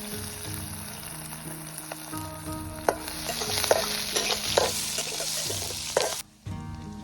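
Green garlic fries in hot oil in a pan as a spoon stirs it, with steady sizzling, repeated scraping strokes and clinks, and a brief drop to near silence near the end.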